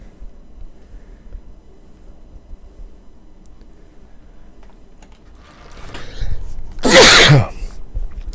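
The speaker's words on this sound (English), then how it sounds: "About to sneeze." One loud, close sneeze bursts out after several seconds of soft keyboard typing and clicking, with a brief sharp intake of breath just before it.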